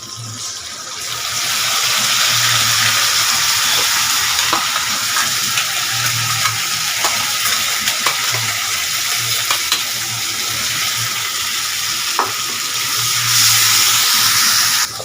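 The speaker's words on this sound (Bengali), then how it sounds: "ভালো করে এবার কষাবো আদার আর রসুনের গন্ধটা একটু যাওয়া অবধি" A ginger, garlic, onion and green chili paste fries loudly in a pan over a steady, close sizzle, with regular stirring scrapes and light utensil knocks throughout and no talk.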